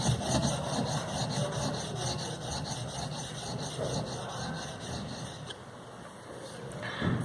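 A steel chisel's back is rubbed flat on a sharpening stone, giving a continuous gritty scraping with steady back-and-forth strokes, close and moderately loud throughout.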